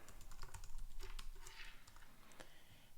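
Someone types a password on a computer keyboard, a steady patter of close, crisp key clicks with uneven rhythm and no talking.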